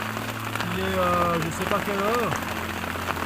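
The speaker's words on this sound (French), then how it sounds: "Bon, il grêle dehors." Hail pattering steadily on a tent at a high-altitude camp on Manaslu, a constant rough hiss under close conversational speech in French.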